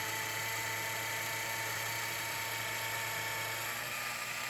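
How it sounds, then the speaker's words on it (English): A small portable drill press bores through an aluminum antenna housing, giving a loud, steady high-pitched whine that runs unbroken without any speech. "we're going to go ahead and drill the other 2 a little bit larger, and we're going to go through the actual aluminum housing"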